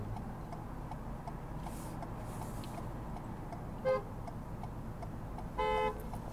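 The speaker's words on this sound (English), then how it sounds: "He also gets beeped from the cars behind" Car horns beep from vehicles queued behind at a traffic-light junction during a mock driving test, one short toot followed later by a longer honk over steady engine and road noise.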